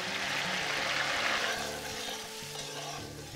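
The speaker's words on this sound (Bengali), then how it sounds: "আঁচ মাঝারি করে আদা আর কাঁচা লঙ্কা বাটাটা দিয়ে" Ginger and green chili paste sizzles steadily in hot oil over medium heat in a pan, with a continuous close-up frying hiss and no talking.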